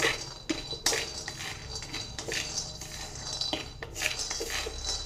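Peanuts dry-roasting in a pan while being stirred, with repeated clattering metal scrapes and rattling of the nuts against the pan, close and busy throughout.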